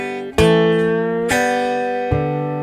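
A cigar box guitar plays country slide blues with a bottleneck. Three bright, ringing notes sound one after another, gliding in pitch between them, close and sustained with no voices.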